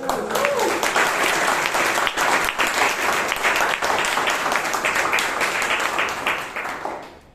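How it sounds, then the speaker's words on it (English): Sustained applause from an audience at a Toastmasters club meeting in Bangalore, dense steady clapping throughout that fades out at the end, with no talking over it. "Let's have a big round of applause."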